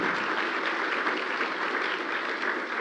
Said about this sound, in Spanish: ¿Cuántos aplauden al Señor Jesús?